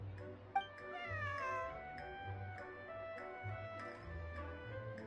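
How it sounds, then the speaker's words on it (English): A cat meows in a video game, repeated short meows over a soft background music loop with light ticking, fairly faint overall. "This is my friend's cat."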